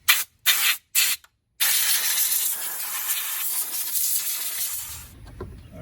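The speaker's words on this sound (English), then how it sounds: "Before I open anything else up, I'm gonna spray this dirt off." A pressure washer hisses in short bursts, then sprays dirt off car engine parts continuously at close range, a loud steady rush that cuts off near the end.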